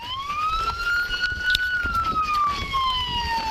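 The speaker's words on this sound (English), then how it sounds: "one thing I've noticed is siren is still on." Police car siren wailing steadily from close by, a smooth rising and falling tone with faint harmonics holding throughout.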